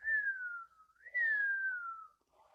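A person whistles a single sustained, sliding tune in two long phrases with a short break between them. It sounds fairly close and clear over quiet background noise.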